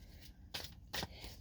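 Tarot cards are shuffled quietly by hand, with two short riffling bursts over a low background hum.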